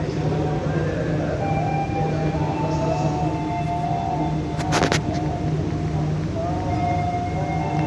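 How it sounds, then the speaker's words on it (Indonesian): KA Sembrani express train running straight through Karawang station, a steady rumble and rolling noise with a steady hum, a sharp brief squeal or horn burst partway through, continuous and fairly loud. "sebentar lagi KA Sembrani melintas langsung stasiun Karawang menyusul KA Majapahit"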